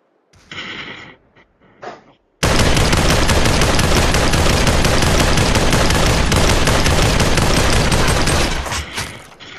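Virtual-reality battle royale Population: One gunfire: a few short bursts, then a loud, continuous rapid-fire stream of automatic shots lasting several seconds before tapering off.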